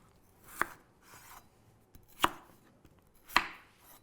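Three sharp, separate knife cuts through potatoes on a board, spaced about a second apart, close and crisp in a quiet kitchen with no talk.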